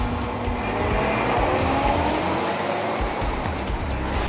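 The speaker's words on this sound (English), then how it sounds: "the mixer is driven to the pour site" A volumetric concrete mixer truck carrying sand, stone and a polyethylene water tank drives toward a pour site, giving a steady, loud broadband rumble with a heavy low-end drone throughout.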